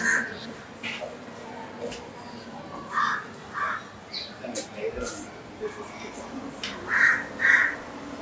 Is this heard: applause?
no